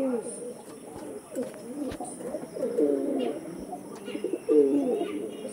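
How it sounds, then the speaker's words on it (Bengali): Pigeons of a high-flying breed cooing close by in soft, repeated low throaty calls that overlap irregularly, with a few faint knocks and chirps in between. "একদম অরিজিনাল টপ কোয়ালিটির পায়রা এগুলো।"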